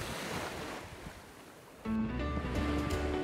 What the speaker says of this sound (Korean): 파도 소리가 잔잔하게 밀려드는 해변.